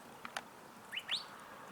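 An unidentified bird calls while hikers are out on a trail, giving a few faint, short chirps followed by two quick rising whistled notes, with nothing else in the background.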